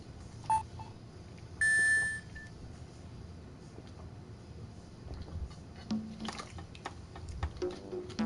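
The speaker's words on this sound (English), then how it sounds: "Beep." A short electronic beep from the Ace Attorney video game, a couple of bright tones over a quiet room hum with soft clicks, alone without talk.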